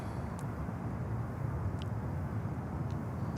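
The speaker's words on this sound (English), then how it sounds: "Emirates 777 is taxiing at the moment" An Emirates Boeing 777 taxiing at Miami Airport, a steady low jet engine rumble heard from a distance, constant and unbroken with a faint high whine, no voices.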